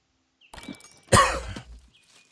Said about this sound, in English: Dang, I got a cough.